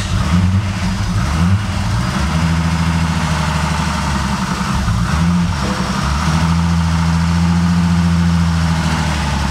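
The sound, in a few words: RB30DET engine in R33 Skyline starting, struggling to idle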